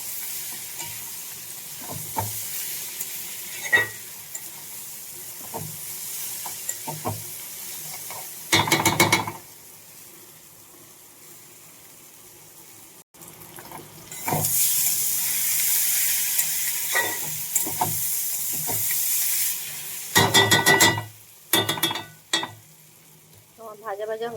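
Spices and lentils fry in a pan for egg tarka with mixed dal, a soft sizzle under repeated scraping and clinking stirs, broken by loud bursts of hissing spatter.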